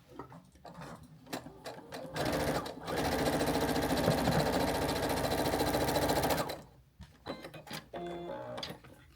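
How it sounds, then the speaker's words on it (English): A sewing machine stitches quilt blocks for a charity quilt in one loud, steady run of about four seconds, rising after a few short starts and dropping back to light handling sounds at the end. "And now I'm gonna sew this one to the right."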